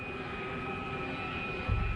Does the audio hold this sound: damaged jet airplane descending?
yes